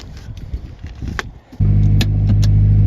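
A turbocharged Nissan 240SX engine catches and settles into a loud, steady rumble close by after a stretch of quieter mechanical rattling, with a few sharp clicks and pops over the drone as it moves around a parking lot.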